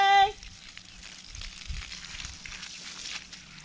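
Water runs over freshly harvested, mud-covered sweet potatoes being washed, a soft, close, steady splashing hiss that follows a short tone at the very start.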